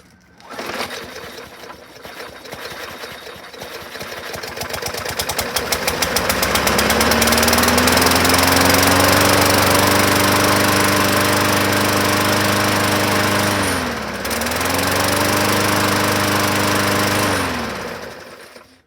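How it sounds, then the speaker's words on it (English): A 2012 Weedeater 550E walk-behind lawn mower engine runs loud and close, rising from rapid knocking to a steady drone, briefly dips and bogs as it cuts out, then picks back up before stopping. "Let go of the bail bar, see if it kills the engine, and then grabbed it again to restart it"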